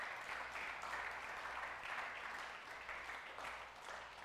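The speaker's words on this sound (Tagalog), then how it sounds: "Tuloy natin yung palakpak." A church congregation keeps up a continuous, faint round of applause, a soft even clatter of many hands heard from a distance for a few seconds.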